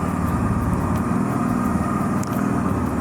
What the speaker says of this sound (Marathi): गाडी स्टार्ट झाली आहे आपली.